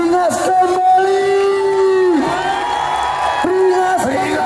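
Crowd at a carnival with a massed dance performance in Campurdarat, shouting and whooping in bursts over a steady, tonal, amplified background, loud and close throughout.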